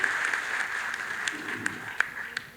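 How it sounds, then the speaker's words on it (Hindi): Audience at an Indore event marking 75 years of MGM Medical College applauds to welcome an MP, steady moderate clapping with a few sharper claps, slightly distant, with faint voices underneath. "तालियां बजाकर उनका भी स्वागत करें"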